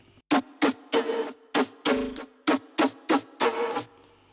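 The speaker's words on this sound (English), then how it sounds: "Now if we were to remove the reverb filter and just remove the compressor and the EQ, it would sound like this." Dry Serum synth lead with no reverb, compression or EQ, playing a run of about ten short, punchy, buzzy staccato notes in an uneven rhythm, close and loud with clean gaps of silence between them.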